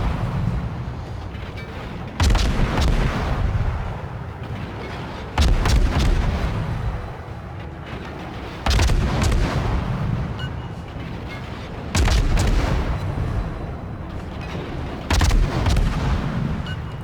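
Warship main-battery volleys fire in World of Warships, heavy booming salvos landing at regular intervals about every three seconds, each a loud broadband blast fading into rumble, with no talk.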